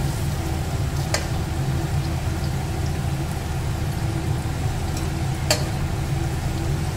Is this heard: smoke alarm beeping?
no